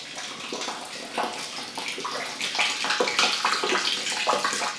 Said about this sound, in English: Someone is probably using the wash basin, and we collect the water